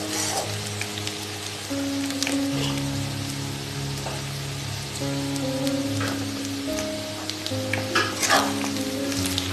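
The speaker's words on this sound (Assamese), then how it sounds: "তিলখিনি ভাজাৰ পিছত 3 মিনিটমান" Black sesame seeds frying in a pan for a pork dish, a continuous close crackling sizzle with steady hissing texture and occasional pops throughout.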